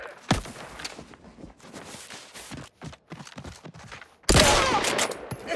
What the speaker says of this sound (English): Shots are leaking outside.